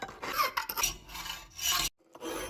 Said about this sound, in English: now I'm filing out a big slot